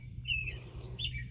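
Brief, high chirps from small birds nesting in a mailbox outdoors, two short tweets a moment apart over a low steady background rumble, fairly faint and with no one talking.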